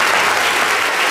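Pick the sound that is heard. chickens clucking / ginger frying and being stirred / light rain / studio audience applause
studio audience applause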